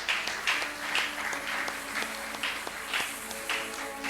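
A church congregation applauds at a French worship service, steady rhythmic clapping from many hands, fairly quiet and even, with some irregular sharper claps.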